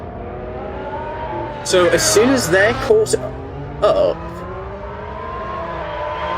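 Formula 1 race cars in a racing video game's Australian Grand Prix hum and rise in pitch as they accelerate past a safety car, a steady engine drone beneath someone talking over it.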